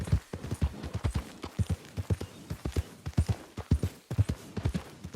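Horse hooves trotting in Red Dead Redemption, a steady, close clip-clop rhythm of evenly spaced hoofbeats running throughout with no talk over it.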